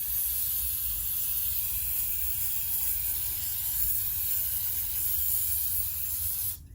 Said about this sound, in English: we're going to go ahead and spray within these ports here and let it clean itself out